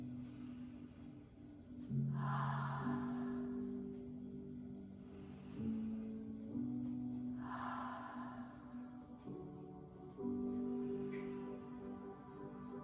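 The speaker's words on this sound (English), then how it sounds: "We'll take 3 deep breaths together." Three slow, deep breaths follow one another, each a soft airy inhale and exhale, during a family yoga and mindfulness session. Quiet music plays steadily underneath.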